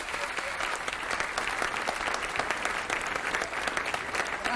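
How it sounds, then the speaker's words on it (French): Warm, sustained applause from the crowd at a ceremony commemorating the abolition of slavery, dense and even with crisp individual claps, fairly close, with no talk over it. "Oui, vous pouvez les applaudir chaleureusement."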